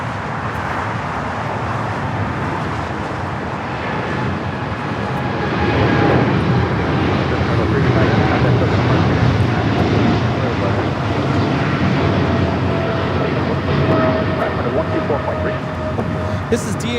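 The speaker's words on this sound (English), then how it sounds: "This is DHL, operated by Airlogic 385, taking off to Leipzig, Germany on the 777 freighter" DHL Boeing 777 freighter, brand new, taking off from LAX, a sustained broad jet roar that builds and holds loud throughout, with distant road traffic beneath.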